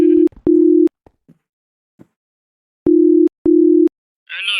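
A phone call is being placed, and a ringback tone sounds in two paired bursts separated by silence, followed by a voice starting up at the very end.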